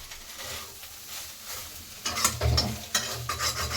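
Soybean chunks frying in a pan, a soft sizzle with scraping stirs, louder bursts of stirring and crackle in the second half.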